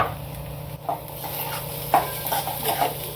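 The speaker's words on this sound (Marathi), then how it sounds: "आता आपण टोमॅटो चांगलं मऊ होईपर्यंत परतून घेऊ।" Onion and tomatoes sauté in a pan for a homestyle spicy curry, under a soft steady sizzle. A spoon stirs and scrapes close up in a few distinct strokes.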